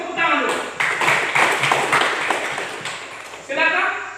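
Group of people clapping hands in a classroom lesson, a burst of dense applause that swells, dips and rises again over a few seconds, with a voice audible at the start and end.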